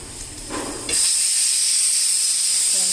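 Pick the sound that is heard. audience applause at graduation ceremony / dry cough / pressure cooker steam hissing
pressure cooker steam hissing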